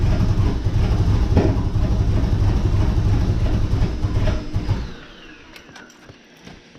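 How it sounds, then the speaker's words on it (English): A 1994 Chevrolet Corvette engine runs loud and rough nearby, missing and stumbling with uneven pops, then cuts out abruptly, leaving a quieter background with faint clicks. "So, it's backfiring, missing pretty bad."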